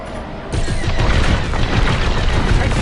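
Dense, continuous weapon fire and rumbling explosions in Star Wars Squadrons space combat, loud and close, with a sharp jump in intensity early on and then a sustained roaring barrage.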